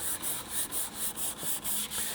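Block sanding of primer on a car body panel around a low spot, a steady abrasive rasping that pulses in regular back-and-forth strokes, close and fairly quiet, with no talking.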